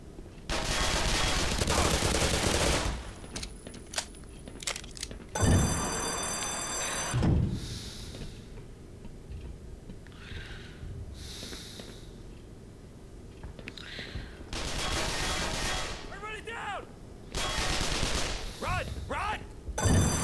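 Bursts of gunfire from the Black Mesa shooter game, loud volleys at the start and again later separated by quieter ambient stretches, with a voice briefly heard.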